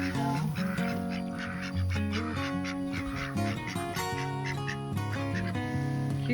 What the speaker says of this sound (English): Ducks and chickens together.